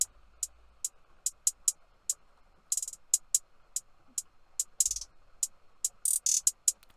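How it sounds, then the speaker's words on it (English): A programmed hi-hat pattern in an FL Studio beat for an emotional, sad hip-hop track plays alone as crisp, bright ticks in a steady repeating rhythm, with a few brief rolls and open-sounding hits near the end. "Then I added a hi-hat,"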